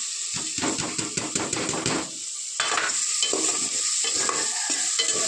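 Okra (bendakaya) frying in a pan with green chillies and turmeric, a constant loud sizzle broken by rhythmic scraping strokes of a spatula stirring the pan, no talking.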